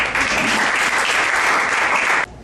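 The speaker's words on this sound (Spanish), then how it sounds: "Aplaudo al Señor por un momento." Loud, dense applause from a church congregation, brief and sustained, then cut off sharply.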